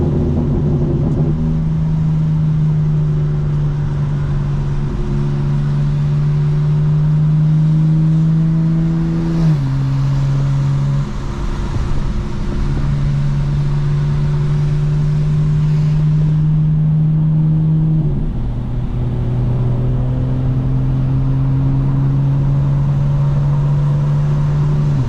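A fully modified 2025 BMW M4 Competition with a track alignment drives in the rain, its engine a steady, loud cabin drone that climbs in pitch and drops sharply twice at gear changes, with no talking.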